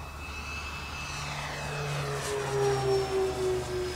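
An FMS F7F Tigercat 1700mm twin-propeller RC model airplane flies on its maiden flight, its steady engine drone swelling louder as it passes near, with a rising whine and no talk.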